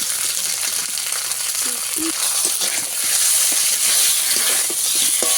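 Tomatoes frying with potatoes and ginger in a pan give a loud, continuous close sizzle and crackle, with faint utensil sounds underneath.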